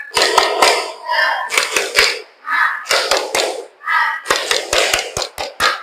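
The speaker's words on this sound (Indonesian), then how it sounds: "Tepuk semangat!" A fifth-grade class at an Islamic primary school performs a rhythmic spirit clap, sharp crisp hand claps in quick patterned groups alternating with children's chanted voices, close and loud, with short pauses between phrases.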